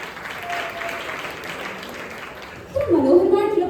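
An audience at a church Sunday school celebration program breaks into applause near the end, clapping swelling after a stretch of a voice speaking over a hall's low background.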